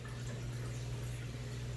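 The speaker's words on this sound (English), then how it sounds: "this 4 cups of milk and you're going to pour it right in there" Goat's milk pours steadily into a stainless steel pot, a soft continuous liquid trickle and splash with a low steady hum beneath, fairly faint throughout.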